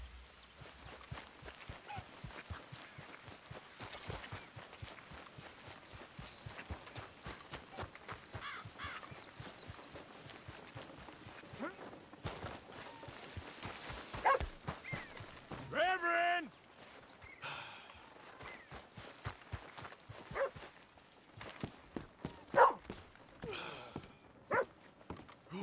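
Horse hooves clip-clopping in the video game Red Dead Redemption 2, a steady rhythmic beat of steps running through the clip at moderate level, with people talking over it at times.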